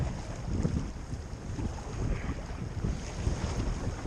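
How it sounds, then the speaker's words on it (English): Big river rapids at Lafferty's Rapids on the Nahanni River during a canoe trip: a continuous broadband rush of churning water mixed with wind buffeting the microphone, steady and fairly faint, with no talk. "Lafferty's Rapids. Big ones."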